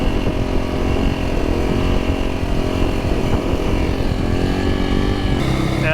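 A supermoto motorcycle engine drones steadily while riding, holding a constant buzzing hum at moderate loudness with no talking over it.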